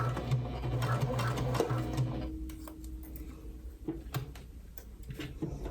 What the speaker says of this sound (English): You're just stitching right along the edge.